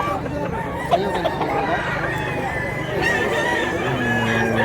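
Roosters crow and cluck nearby at a sale of three birds, the calls blending with steady background chatter and a voice talking throughout.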